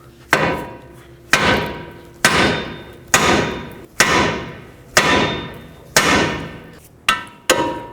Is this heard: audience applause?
no